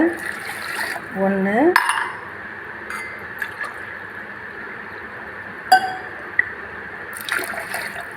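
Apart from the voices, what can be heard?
pouring water into a pot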